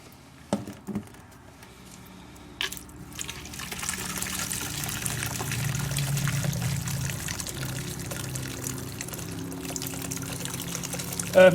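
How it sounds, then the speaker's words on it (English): Hot water poured over a beehive queen excluder, a few clinks and knocks at first, then a rising, steady splashing pour that lasts several seconds before a final clatter, close and without talking. "And pour hot water on it again."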